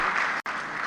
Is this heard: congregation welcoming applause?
yes